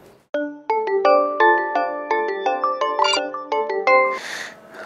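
A phone ringtone plays a bright, bell-like melody of quick chiming notes, loud and close, ending in a short burst of noise as the call is answered.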